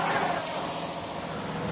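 Spray gun applying Rhino Lining bedliner onto an International MXT truck, a steady close broadband hiss lasting throughout with no pauses.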